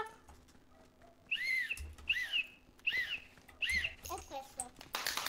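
A bird whistles a repeated two-note call, four or five times in steady rhythm, clear and fairly close with some background noise.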